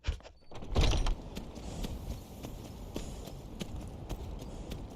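Rhythmic hoof clops of a horse walking in the video game Skyrim, a steady series of sharp knocks over a low background rumble.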